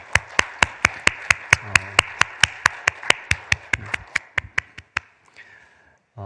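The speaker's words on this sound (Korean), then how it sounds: "다시 한번 하나님께 영광의 박수 드리겠습니다" A church congregation claps in steady unison, about twenty sharp, evenly spaced claps that slowly soften before stopping, then a brief faint rustle.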